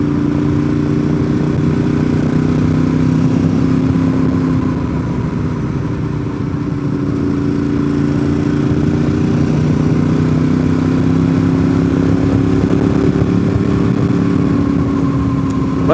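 A Ducati 848 motorcycle engine drones steadily and loudly while riding on a mountain road, its pitch rising and falling gently with throttle throughout, with wind noise underneath.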